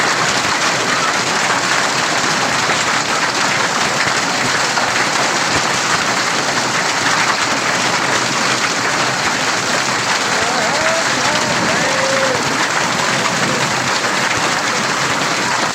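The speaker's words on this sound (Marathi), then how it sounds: "चिखलदरा येथे मोठ्या प्रमाणावर पाऊस सुरू झाला या ठिकाणी गारपीट देखील झाली" Dense, steady pattering of hail and heavy rain on surfaces at Chikhaldara, a loud continuous clatter throughout with no clear pauses.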